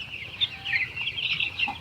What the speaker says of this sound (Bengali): মুরগি পানি খাচ্ছে